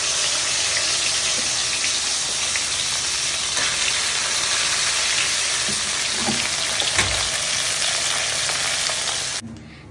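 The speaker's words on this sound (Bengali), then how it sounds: "এবার বাদ বাকি যে মাছ কটা আছে সেগুলোও ভেজে নেবো।" Koi fish fry in hot oil for a Bengali tel koi dish, a continuous loud hiss and crackle of sizzling that carries steadily throughout and stops abruptly at the end, with no talk.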